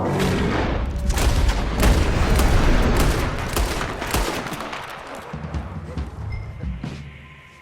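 Dense gunfire from the Red Dead Redemption 2 video game, a loud, continuous barrage of overlapping shots and booms with sharp individual cracks standing out, no talking.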